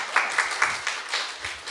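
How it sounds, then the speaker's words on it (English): Scattered, light clapping from a small audience at a youth event after a talk, a handful of distinct claps early then a softer patter fading out. "Give her a round of applause."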